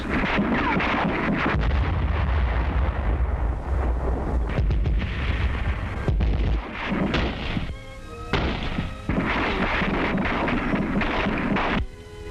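Artillery fire during the 1945 battle of Okinawa, heard in an old newsreel as dense, loud, rumbling booms and blasts rolling together with rough, windy noise and brief gaps in the barrage.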